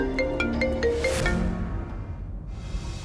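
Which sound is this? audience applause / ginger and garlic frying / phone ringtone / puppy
phone ringtone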